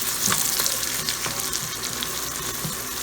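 Onions and turkey wings sizzle loudly in an Instant Pot while being stirred, a dense continuous frying hiss with occasional scraping of the utensil against the pot, and no speech.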